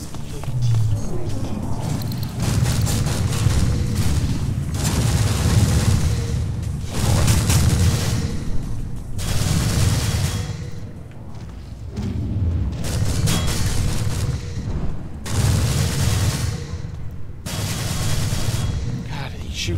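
Repeated heavy booming explosions in a modded video game rumble one after another, dense and loud, with a constant roaring wash between them.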